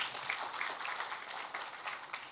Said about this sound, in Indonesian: Beri tepuk tangan buat Yesus, saudara